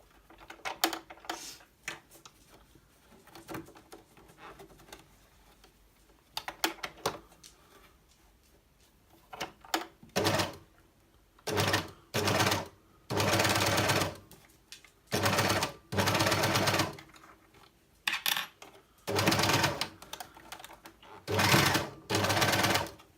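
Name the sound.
sewing machine stitching a reusable heat pack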